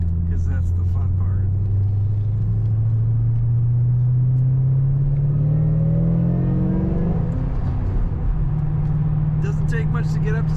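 A 2007 Ford Mustang Shelby GT500 convertible accelerates from inside the car with a loud, close engine drone that rises steadily in pitch as it gathers speed, then eases back, with a voice talking over it.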